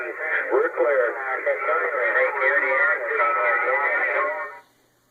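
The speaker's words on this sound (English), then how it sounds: "there's almost a little too much skip rolling right now to get you a perfectly clear signal" A garbled voice comes over a single-sideband CB radio during heavy skip conditions, warbling and band-limited, then cuts off abruptly into silence.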